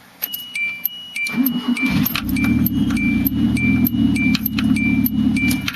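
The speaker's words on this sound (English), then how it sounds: "as soon as this thing starts, I let the clutch pedal out enough" A manual car engine cranks with the clutch pedal pressed and catches, then settles into a steady low idle, with a faint repeated chime and light metallic jingling over it.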